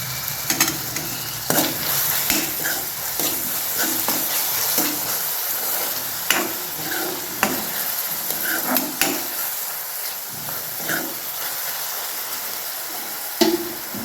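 Tomatoes roasting in oil in a pan, a close, steady sizzle with repeated sharp taps and scrapes of a spoon against the metal pan at an irregular rhythm.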